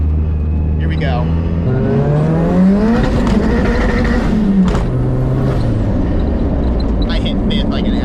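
An SR20-powered roadster accelerates hard through first, second and third gear. The loud, close engine climbs steeply in pitch and drops sharply at each shift, then winds up again.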